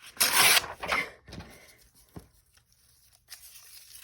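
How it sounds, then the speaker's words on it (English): Pieces are ripped off by hand, with two loud close tearing bursts at the start followed by fainter crinkling, rustling and a soft tap in a quiet room. "I don't know why I'm ripping all these off"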